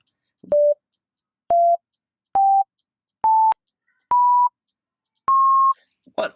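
Six short, pure synthesized sine-wave tones, a fundamental and its harmonics, sound one after another, each slightly higher in pitch, with silent gaps between them and a brief noise at the end.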